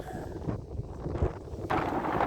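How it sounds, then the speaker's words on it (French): Strong wind buffets the microphone outdoors on a walking pilgrimage trail, making a rough, continuous rumbling roar that surges louder toward the end. "Il y a beaucoup de vent, je peux rien filmer là."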